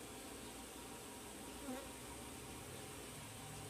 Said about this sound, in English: That's a whole bunch of bees.